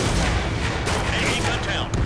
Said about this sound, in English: I almost got hit by AA fire.